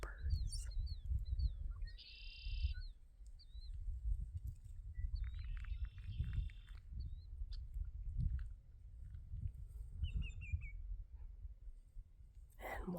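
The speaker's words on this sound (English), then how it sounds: "calm winds to listen to those red-winged blackbirds" Red-winged blackbirds singing outdoors on a calm day, several short trilling and buzzy calls heard at a distance in bursts, over a low rumbling background of wind or handling noise.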